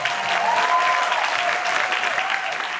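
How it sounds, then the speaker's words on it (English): An audience at an Aloha Freedom Coalition meeting claps steadily, a dense, even round of applause that holds for the whole stretch. "Give a round of applause to Gary."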